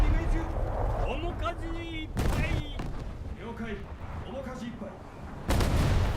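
Heavy booming naval gunfire in a warship video game erupts in loud blasts, a few seconds apart, with game-like rumble and chirping effects between shots.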